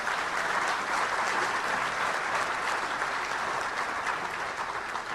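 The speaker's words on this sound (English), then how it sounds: "So let's give a big round of applause to all of our..." Sustained applause from a luncheon audience at a touchdown club gathering, steady and dense clapping filling the room for several seconds with no voices over it.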